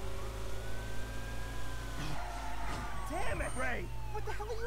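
Inside an ambulance in the driving game Driver San Francisco, a siren wails over a steady engine drone, with crashes and other sirens breaking in while voices speak throughout.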